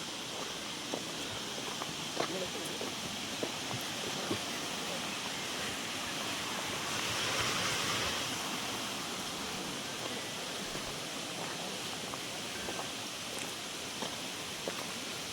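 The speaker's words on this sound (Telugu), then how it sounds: "పక్కనే కాలువ ఉంది, వాటర్ సౌండ్ వినిపించవచ్చు మీకు ఏ విధంగా ఉందో." Water flows steadily in a canal beside a hillside road in Andhra Pradesh, a constant broad rushing wash that swells slightly midway, with faint scattered ticks and footstep-like taps over it.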